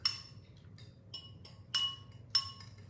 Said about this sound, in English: Okay, so I put it in with the egg. I'm going to give it a nice stir.